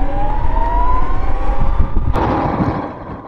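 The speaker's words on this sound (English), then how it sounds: "That's not the noise a Jaguar E-Type normally makes." An electric Jaguar E-Type Series 1 Roadster drives by with a steady, loud electric motor whine and rising tonal hum over road rumble, plus a brief sharp transient near the end, with no talking.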